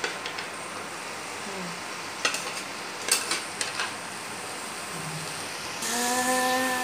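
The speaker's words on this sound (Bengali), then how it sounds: "নিচে থেকে, নিচে থেকে নাড়াতে হয়" Fried lote fish jhuri with boiled vegetables is stirred in a pan, with scattered scraping clinks of utensil on metal over a soft frying hiss, and a steady whine near the end.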